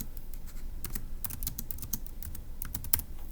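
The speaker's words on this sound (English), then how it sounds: "let me go ahead and type that up in for section E" Irregular clicks of fingers typing on a computer keyboard, close and fairly quiet, with short bursts and pauses between runs of keystrokes and no voices.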